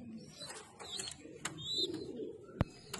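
Racing pigeons in a loft coo softly in short, low calls over faint background chatter and rustling, with a sharper thump near the end.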